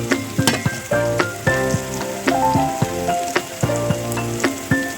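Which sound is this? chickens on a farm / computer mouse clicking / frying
frying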